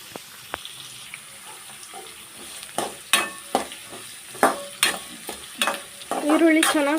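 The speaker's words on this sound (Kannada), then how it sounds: "ಇವಾಗ ಈರುಳ್ಳಿ ಚೆನ್ನಾಗಿ ಫ್ರೈ ಆಗಬೇಕು." Chopped onions and green chillies frying in a pan, a soft sizzle punctuated by repeated sharp spatula scrapes and stirring knocks at irregular intervals, close by with no speech.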